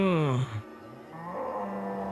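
A buffalo in an animated film lets out one loud, low, drawn-out bellow at the start, followed by softer, rumbling vocal murmurs that trail off.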